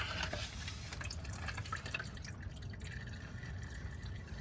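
Diesel fuel drips and trickles from the fuel filter of a 2014 Ram Limited pickup into a catch pan, a steady patter of close droplets over a low background rumble, with no talking.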